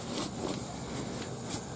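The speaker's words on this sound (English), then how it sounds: "I guess they call them silent zippers now." A silent zipper on a Hawk hunting ground blind being drawn open, giving a soft, brief rasping zip heard close up in a quiet setting with no talk.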